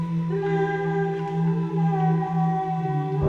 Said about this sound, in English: until like here it just kind of building up for the drop.